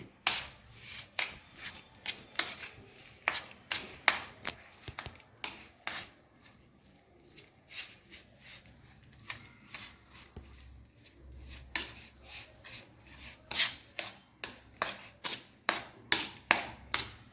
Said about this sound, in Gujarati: હવે બધું મિક્સ કરી તેનું સ્ટફિંગ બનાવી દઈશું.